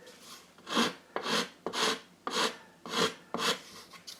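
Filing the edge of a wooden ship model part to round it, six distinct close rasping strokes at an even unhurried pace, each a sharp gritty scrape with quiet gaps between.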